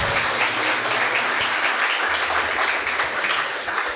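A church congregation applauds loudly and steadily during a sermon, the dense clapping filling the space with a low hum of music or organ underneath.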